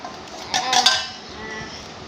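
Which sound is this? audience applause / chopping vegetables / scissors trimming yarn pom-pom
chopping vegetables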